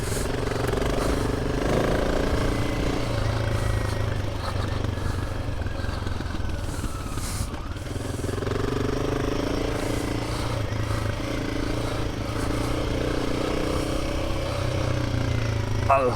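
Steady thrum of a Himalayan 450 motorcycle on a dirt trail, a continuous rough engine drone with rattling and clatter from the ground, close and loud throughout, with someone talking over it.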